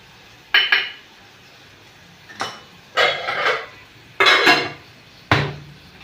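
Tomato being mixed in a pan with red chilli powder, turmeric and salt, heard as a handful of separate metallic scrapes and clinks of a spoon against the pan, spaced irregularly with quiet gaps between them.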